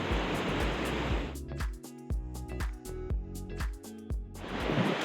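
High spring water rushes through Yosemite National Park as a broad, soft roar at the start and end, broken in the middle by a stretch of clattering, knocking sounds.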